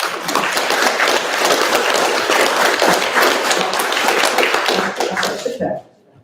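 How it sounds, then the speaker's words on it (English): Audience at a Reform UK meetup in Eastbourne clapping for a member asked to stand: a loud, dense round of applause that fills the room, then cuts off abruptly near the end. "Give a round of applause."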